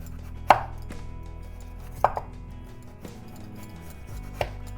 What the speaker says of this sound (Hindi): अब काट लेते हैं गाजर को, पतले पतले ऐसे स्लाइसेस काट लेंगे।